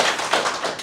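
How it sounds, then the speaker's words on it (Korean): Short burst of hand clapping at a televised debate between two candidates for Gangwon provincial education superintendent, heard as a brief, fairly quiet patter of claps with no talk over it. "저 박수 한번 보내드리고 싶어요"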